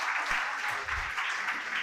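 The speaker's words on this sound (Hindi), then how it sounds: "ताली बजाओ लड़की के लिए।" Applause from a classroom of students cheering a girl who answered a question, a dense burst of clapping that fills the short moment without talk.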